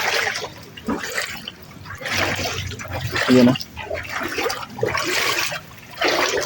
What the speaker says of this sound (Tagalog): pinasok na rin yung kanilang tubig, bahay namin